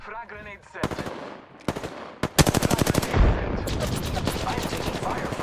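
Automatic gunfire in the Apex Legends arena mode, heard as several loud, close bursts of rapid shots separated by short pauses, with other game effects between them.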